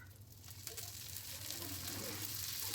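Dosa batter sizzling on a hot pan, a steady close-up hiss of frying that holds at an even loudness, with a low hum running underneath.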